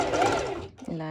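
A sewing machine zigzag-stitches fabric for a binding strap in a brief, close whir, with a voice talking over it.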